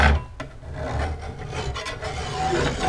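A hand file rasps along a garden tool blade in repeated close strokes, a gritty scraping rhythm with short pauses between passes.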